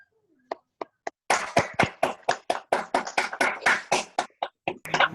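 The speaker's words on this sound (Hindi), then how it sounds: "एक बार हम सभी मिलके नवीन सर का तालियों के द्वारा उनका अभिनंदन करते हैं।" A single set of sharp hand claps turns into a steady, fairly quick run of close, loud claps, as an audience applauds Naveen sir at a Hindi-language talk. A few isolated claps come first, and there is no talk over them.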